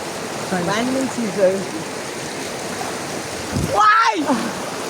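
Water rushes in the background, then a sudden splash bursts out near the end, with people talking and calling out around it, during Holi water play at a college.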